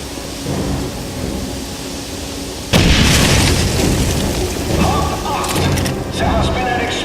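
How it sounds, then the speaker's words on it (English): In the video game Wolfenstein 2009, a train station level, a heavy explosion booms suddenly after a few seconds of background sound, followed by rumbling debris and crackling that linger while voices talk. "There has been an explosion in the building."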